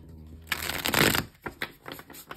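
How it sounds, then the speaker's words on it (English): Tarot cards are shuffled up close: a dense riffling burst followed by a few shorter flicks and taps. "And I'm going to shuffle the cards"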